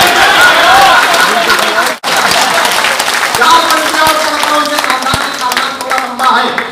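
An audience at a Holi Hindi comic poetry gathering in Jamshedpur bursts into loud, close applause that keeps going for several seconds, with a voice talking over it.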